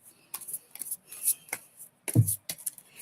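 Tarot cards are shuffled by hand close up, giving a string of crisp, quiet riffling snaps and rustles with short pauses and a louder slap near the end.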